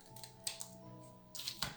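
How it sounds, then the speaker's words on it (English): Scissors make a few faint, quiet snips as they cut small pieces of card during card-making, giving short crisp clicks spread over a couple of seconds. "it's easier to use your scissors"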